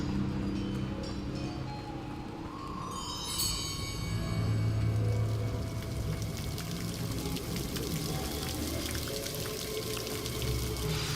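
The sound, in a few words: waterfall in the video game Hogwarts Legacy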